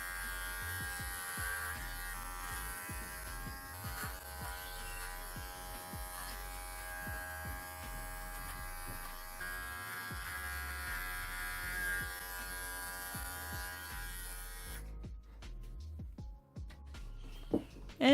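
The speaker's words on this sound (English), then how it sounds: "I am shaving the feet first." Electric clippers buzz continuously while shaving a poodle's feet, a close, steady motor hum with small shifts as the blade moves, cutting off near the end.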